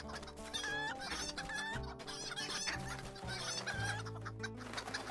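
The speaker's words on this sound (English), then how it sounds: "Here comes our chickens." Game chickens in a flock cluck and squawk continuously through a busy in-game chicken run on the North Downs, over a dense, steady bed of layered music or game ambience.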